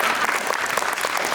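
A conference audience at a magic event breaks into loud, dense applause, a brief burst of many hands clapping at once that stays full and even.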